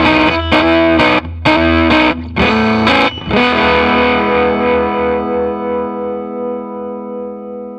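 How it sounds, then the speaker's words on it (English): An electric guitar through a RAT Tail distortion pedal set to medium crunchy overdrive plays a few choppy chords, then lets a final chord ring out and slowly decay. "It adds the distortion in, and it's more like a medium crunchy overdrive."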